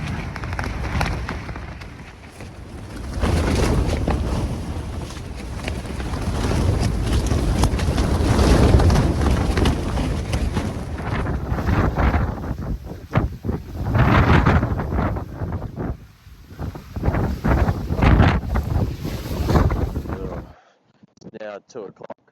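Strong wind at 3 a.m. in Central Otago, New Zealand roars and buffets against the microphone in heavy, uneven gusts, then cuts off abruptly.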